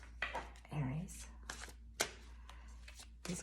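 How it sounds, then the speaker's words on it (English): Large oversized tarot cards being shuffled by hand in quiet, soft papery bursts and flicks, with a sharp card snap near the middle, close and faint. "These cards are super big, so it's a little hard to shuffle"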